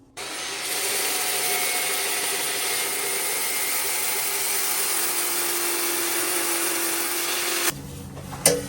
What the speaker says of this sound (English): Now I'm going to smoothen it out with sanding.